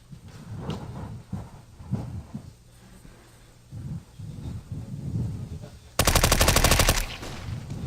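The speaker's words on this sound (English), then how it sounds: "Norbert walks out, hammered away by the newest edition of weaponry to Counter-Strike Global Offensive. MP5" MP5 submachine gun fire in Counter-Strike: Global Offensive during an esports match, a sharp rapid burst of automatic shots near the end, following quieter in-game footsteps and clatter under a caster's talk.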